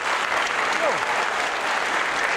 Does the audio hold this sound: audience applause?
yes